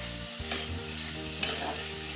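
A spatula scrapes and stirs beetroot and carrot in a pan twice, with a faint sizzle continuing underneath.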